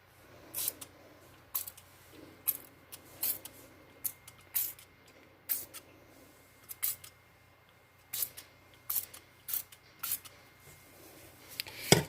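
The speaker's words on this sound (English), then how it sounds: "So I'm going to give them a nice spray with some rubbing alcohol." Short, sharp spray bursts of rubbing alcohol onto freshly poured homemade soap, a dozen or so quick pumps in an irregular rhythm, close and fairly quiet with silence between them.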